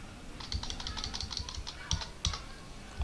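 Rapid typing of terminal commands on a computer keyboard, a quiet close patter of irregular key clicks with a couple of sharper, heavier strokes like enter presses.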